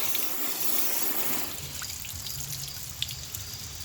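Water rushes and splashes steadily across a car panel, a continuous close hiss of spraying liquid with a few small drips near the end.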